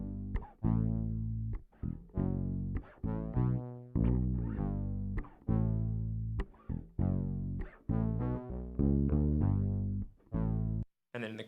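Electric bass guitar and a saw-wave synth bass play together in a funk-pop bridge, a walking line of short, punchy low notes with brief gaps, loud and dry with no voices.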